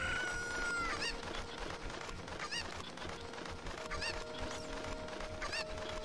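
Cucco chickens cluck in Kakariko Village in Zelda: Ocarina of Time Master Quest, with repeated short clucks and squawks scattered throughout over a steady game background, with no talking.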